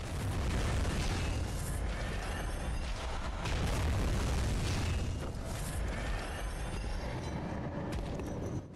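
Heavy cannon blasts from an enemy in the Bloodborne video game, booming explosions over a dense, rumbling game soundscape that stays loud and continuous throughout.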